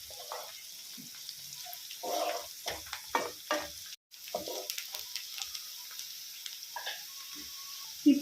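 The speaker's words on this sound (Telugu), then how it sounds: "ఈ కరివేపాకు అంతా మంచిగా చిటిపటలాడి స్మెల్ గుమాయించి కొట్టాలన్నమాట ఈ తాలింపులోకి." Curry leaves and turmeric sizzle in hot oil while a tempering is made for gongura curry. The frying hisses steadily, broken by scattered crackles and pops and the occasional scrape of stirring.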